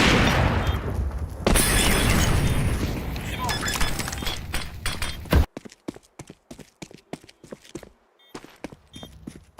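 A grenade blast in Counter-Strike Premier, a loud shattering burst with a long noisy rumble that cuts off abruptly, followed by sparse sharp clicks and footsteps, with game voices in the mix.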